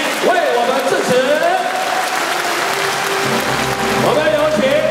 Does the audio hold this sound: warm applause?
yes